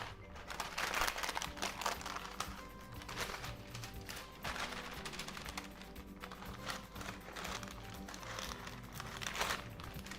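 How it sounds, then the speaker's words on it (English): Plastic wrap is peeled off rustic bread dough with close, soft crinkling and crackling that runs in irregular bursts, fairly quiet, with light handling rustles in between. "The next step, we're gonna take off the plastic wrap."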